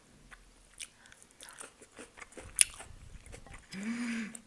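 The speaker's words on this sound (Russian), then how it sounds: "Мукбанги для этого и существуют, чтобы слушать звуки еды." Sushi rolls, noodles and aloe are bitten and chewed close to the microphone in a mukbang, with soft wet chewing, a sharp crunchy bite in the middle and a louder chewing burst at the end.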